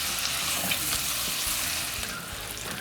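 Garlic being stirred into sausages and onions frying in a pan gives a loud, close, continuous sizzle with scraping stir strokes breaking through, slightly easing toward the end.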